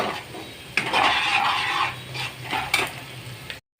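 Two medium chopped onions sizzle loudly in hot oil as they hit the pan, a dense crackling hiss that fades slightly before cutting off.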